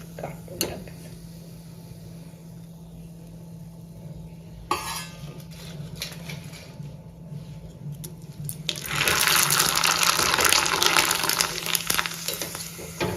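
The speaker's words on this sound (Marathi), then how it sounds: "तेल कडक तापल्यानंतरच पापड तळायला घालायचं तरच छान फुलतं" A thin semolina papad dropped into very hot oil, a quiet bubbling and creaking fry with a sudden clatter partway through, then a loud, bright rushing sizzle swelling in the last seconds as it puffs up.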